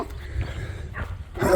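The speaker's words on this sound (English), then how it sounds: "So we've got a whole chorus of dogs here." Several dogs behind a fence bark and yelp at a distance, a few scattered barks building louder toward the end, mixed with outdoor background noise.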